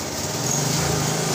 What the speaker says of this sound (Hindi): प्रॉपर तरीके से हमारे बाइक स्टार्ट हो गई है